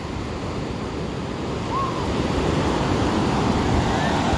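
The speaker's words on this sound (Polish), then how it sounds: "Coraz bliżej fale" Sea waves roll in on a beach, a continuous broad wash of surf that swells slightly louder as it comes closer, with some wind buffeting the microphone.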